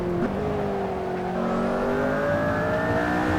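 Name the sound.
McLaren P1 car engine in Assetto Corsa video game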